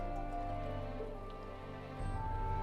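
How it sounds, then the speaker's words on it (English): Steady rain falls in the game LOTRO, a continuous soft hiss of droplets spread evenly across the clip, fairly quiet against a low humming background, with no talking. "actually seeing the water droplets from the rain."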